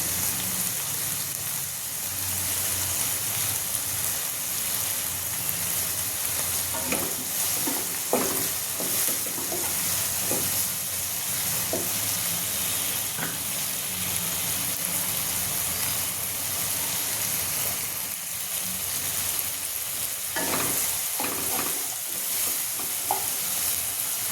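Peas cooking in a pan with spices for fried rice, a continuous loud sizzle and crackle with scattered scraping stir sounds throughout, no voices.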